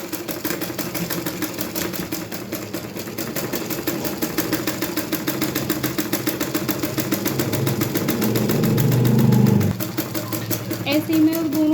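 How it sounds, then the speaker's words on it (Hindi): Sewing machine stitching along lace on a palazzo, a fast even mechanical whir running continuously and building slightly before stopping near the end. "अब मैं यहाँ पे थोड़ा बैक करके सिलाई लगा लूँगी इसमें।"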